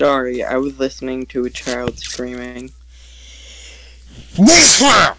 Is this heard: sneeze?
yes